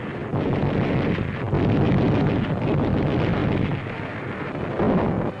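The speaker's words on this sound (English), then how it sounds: "our warships unleash a tremendous pre-landing bombardment" A continuous heavy rumbling roar of distant World War II naval gunfire, the pre-landing bombardment of Tarawa in 1943, booms blending into a sustained, dense wash of low-frequency noise with no voices.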